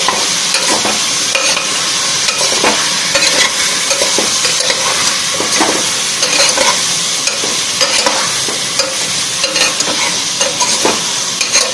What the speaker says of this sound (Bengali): এবার এটাকে আবারও ওপর নিচ নাড়িয়ে নেব সুন্দর করে।